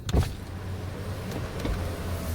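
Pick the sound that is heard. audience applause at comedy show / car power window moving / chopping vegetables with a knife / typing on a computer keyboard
car power window moving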